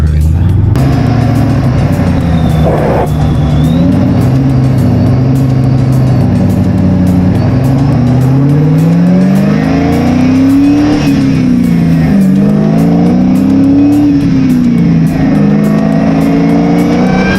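A car engine with a supercharger recorded from inside the engine bay, a loud continuous drone with rising and falling whine as the engine revs, steady and close throughout.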